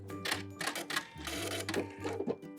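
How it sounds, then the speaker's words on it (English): Sewing machine zigzag-stitching around the edge of a small fabric rectangle for a heart wrist pin cushion, a busy rapid mechanical rattle with pulsing bursts of stitching, close and steady throughout. "I'm going to zigzag all the way around the edge of this little rectangle"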